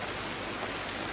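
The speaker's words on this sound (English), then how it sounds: "it's just pissing down with rain constantly" Heavy rain pours down steadily at a backyard koi pond build site, a dense, loud, unbroken hiss with no voices over it.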